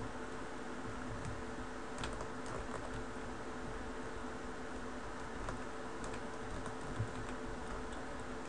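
Keyboard keys clicking during play of the Pokemon Resolute game, faint rapid taps over a steady background hum with no speech.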